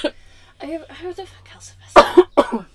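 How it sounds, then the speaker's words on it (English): A person coughs and clears their throat in sharp, close bursts, the loudest pair near the end, set between casual talk from a couple of speakers. "I can cut all of this coughing out if you want."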